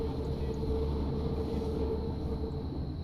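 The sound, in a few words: Hamburg U-Bahn subway train running, from a video game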